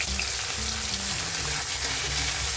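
Chopped onions fry in hot oil with whole spices for a cauliflower and rohu fish curry, a loud, even, continuous sizzle close up with no voices.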